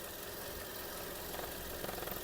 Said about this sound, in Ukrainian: Двигун працює рівненько.